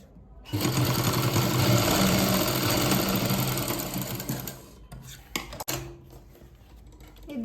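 A sewing machine stitching a shirt collar runs in a loud, steady burst for about four seconds, then slows and stops with a few short mechanical clicks and bumps.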